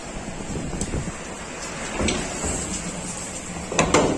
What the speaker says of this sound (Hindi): देखो कितनी तेज हवा चल रही है, बारिश हवा भी पता नहीं चल रही।